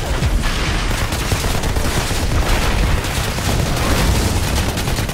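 Dense, continuous gunfire and booming blasts from the Outriders shooter game, played on Xbox Series X, filling the whole stretch at steady high loudness with no pauses and no talk.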